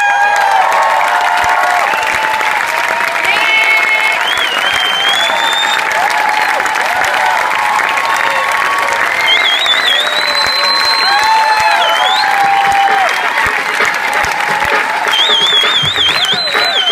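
A concert crowd gives loud, sustained applause and cheering for a bongo player joining a singer on stage, with whistles and shouts rising above the dense clapping throughout.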